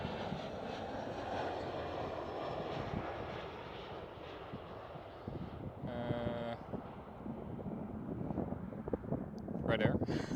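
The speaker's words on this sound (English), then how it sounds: "Next one up for a landing is KLM Cityhopper" KLM Cityhopper Embraer E175 airliner landing at Amsterdam Schiphol, a distant steady jet roar under wind noise with brief faint voices.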